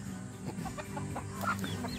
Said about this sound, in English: Oh, little chickens. And a mama chicken.